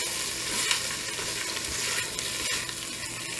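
Tomato paste from a tube sizzles and is stirred in a pot for minestrone soup, a steady close frying hiss with scraping stir sounds throughout.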